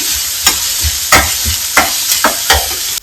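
Chopped vegetables for a paneer sandwich are lightly fried in a pan, a steady loud sizzle broken by regular spatula scrapes and taps roughly every half second, with no talking.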